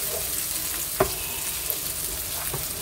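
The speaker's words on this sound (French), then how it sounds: "c'est vraiment pour faire sauter l'ail et faire sauter les tomates" Garlic and sun-dried tomatoes sautéing in a pan on a gas stove, a steady close sizzle with a couple of soft clicks from a wooden spoon stirring.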